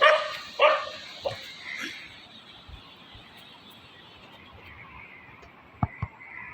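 A few sharp dog barks, a couple at the start and two more near the end, over a quiet outdoor background.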